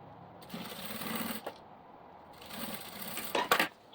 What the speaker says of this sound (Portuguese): E já faz a costurinha.